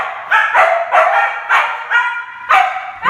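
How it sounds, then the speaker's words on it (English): Two huskies bark and yelp in short, loud, close bursts while playing together, with about seven sharp vocal outbursts spread evenly through the clip. "The serene melody of two huskies getting together for a play date."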